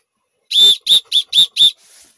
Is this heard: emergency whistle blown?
yes